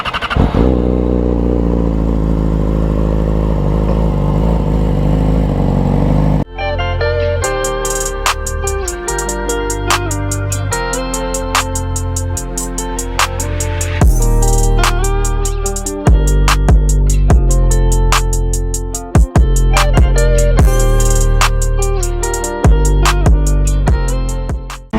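A Yamaha R6 sport motorcycle is ridden hard, its high-revving engine climbing through gears with sharp whines and drops between shifts, loud and close throughout, with wind rush at the start.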